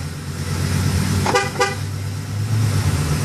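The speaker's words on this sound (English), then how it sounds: "You can actually lock and unlock the doors." A 2014 Ford E-350 box truck gives two short horn chirps from its remote lock and unlock, close and loud against a steady background engine hum.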